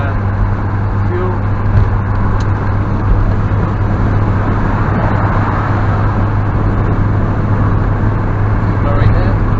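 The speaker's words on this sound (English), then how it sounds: "Give it a bit of gas into fifth. About 70 miles an hour now." A 1980 Triumph TR7 cruising in fifth gear at about 70 mph on a smooth road, a loud, constant engine drone and road roar filling the cabin without letup.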